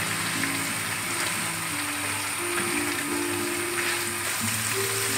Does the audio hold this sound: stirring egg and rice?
yes